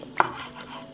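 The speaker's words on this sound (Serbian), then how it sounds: "I sada ćemo iseći kuvanu kobasicu." A single sharp knife cut through cooked, firm sausage on a board, one brief thud-like chop followed by quiet.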